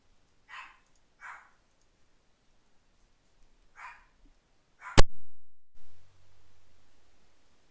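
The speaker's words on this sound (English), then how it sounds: "Oscar and Sherlock, stop barking." A few sharp dog barks at a distance, spaced irregularly, then a loud clatter and a brief low rumble.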